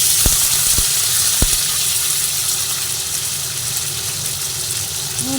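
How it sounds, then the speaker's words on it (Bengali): Potatoes frying in hot oil on a kitchen stove give a steady, loud sizzling hiss that runs unbroken, with a couple of brief clinks near the start and no talk. "তেলের মধ্যে আমি উপরে আলুগুলোকে দিয়ে ভেজে নিচ্ছি"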